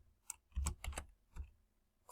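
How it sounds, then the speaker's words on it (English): Several separate keystrokes on a computer keyboard, close and quiet, spaced irregularly as text is typed into a box. "we're going to type in"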